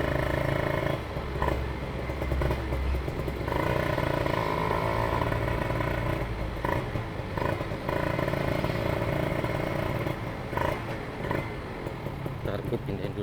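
Kawasaki Ninja two-stroke motorcycle idling and revving close by, a raspy, buzzing exhaust note with intermittent throttle blips and a steady crackling drone throughout; voices are faint or absent.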